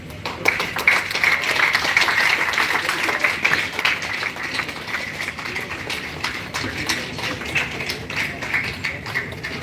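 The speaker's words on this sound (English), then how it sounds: "Another round of applause, please." An audience applauds after a long history lecture, a steady burst of many hands clapping at moderate loudness that holds and then thins slightly toward the end, with no speech over it.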